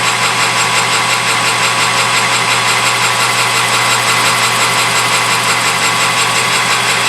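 A machine taking a light facing cut on a nut, during work on a Craftsman bench grinder: a steady, loud motor whine with a constant buzzing hum and no pauses or talk.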